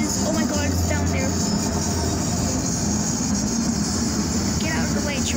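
A train rolls along close by as it is paced from a moving road vehicle, its steady rumble mixed with wheel squeal and a low sustained tone, while people talk over it.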